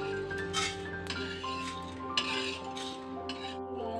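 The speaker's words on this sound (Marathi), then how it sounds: "धणे, जिरे आणि काळी मिरी यात आणि अद्रक, लसूण आणि या 3 मिरच्या हे भाजून घेऊ" A spatula scrapes and clinks against a pan dry-roasting coriander seeds, cumin, black pepper, ginger, garlic and three chillies, with quiet irregular taps and stirs over a steady faint tonal hum.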